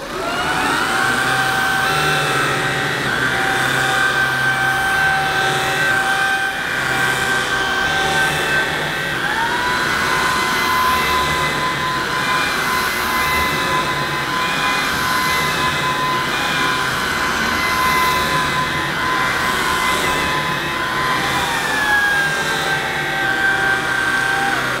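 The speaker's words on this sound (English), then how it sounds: "So even on boost, I could still move the head of this Shark DuoClean vacuum very easily." A Shark DuoClean vacuum cleaner runs steadily on boost over plush carpet, giving a loud continuous motor whine with a slight pitch shift midway and no talking.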